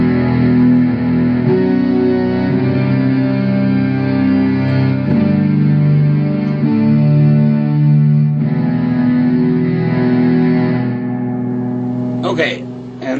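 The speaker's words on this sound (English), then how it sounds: "that's just a Synth 9 without any reverb" Electric guitar played through an Electro-Harmonix Synth 9 synthesizer pedal with no reverb: sustained, buzzy synth-like chords held steadily, loud and close, ending with a brief scratchy strum.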